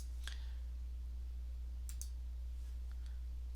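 Computer mouse clicks, a few sharp quiet ticks spaced apart over a steady low hum in a quiet room.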